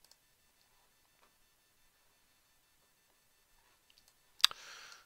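One crisp computer mouse click, close and distinct, near the end of an otherwise nearly silent stretch, followed by a short soft rustle.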